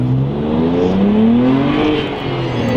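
A BMW E93 fitted with a Pandem wide-body kit accelerates along a back road, its engine note climbing steadily in pitch, loud and close from the cabin, with a gear change partway through.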